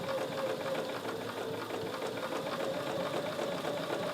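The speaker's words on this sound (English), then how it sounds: "I'm just going to stitch very slowly" A sewing machine runs continuously and slowly, stitching binding onto a quilt with matching thread, its close, even mechanical whir holding steady throughout with no voices.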